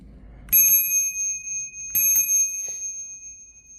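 A bicycle bell on a hardtail mountain bike rings twice with bright metallic dings that sustain, then a smaller tap follows. It is close and clear, with no speech.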